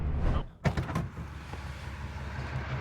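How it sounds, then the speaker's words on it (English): Car power windows rising shut as the vehicle approaches a mountain tunnel, a brief motor whir and thump over steady road and engine noise, with no voices. "Alright, windows up."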